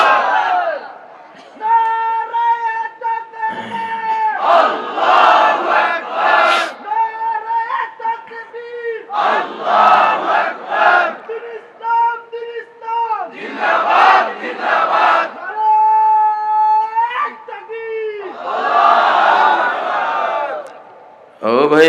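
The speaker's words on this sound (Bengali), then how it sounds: "জমিন আকাশ কাঁপানো একটা তাকবীর দেন, নারায়ে তাকবীর।" Crowd at an Islamic sermon shouts a takbir chant in loud, repeated collective bursts, about five roaring waves alternating with a single voice leading each call between them.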